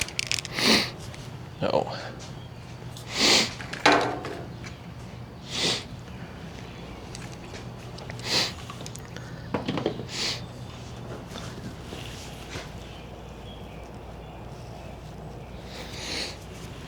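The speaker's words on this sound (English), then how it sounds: "Sorry for all the sniffles" Repeated sniffling from allergies, short sharp nasal sniffs scattered at irregular intervals, fairly close, with a brief spoken word among them.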